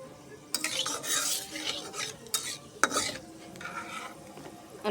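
Dried red chilies fry in oil in a wok, a spatula scraping and clinking against the metal in several sharp strokes over a low sizzle, close by.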